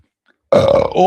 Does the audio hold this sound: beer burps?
yes